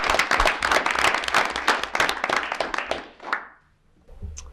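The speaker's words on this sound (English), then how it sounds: "Please join me in a round of applause." Steady applause from a crowd at a school board of education meeting, dense clapping that carries on for several seconds and then fades out into quiet.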